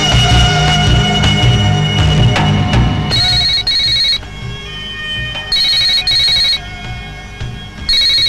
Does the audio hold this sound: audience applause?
no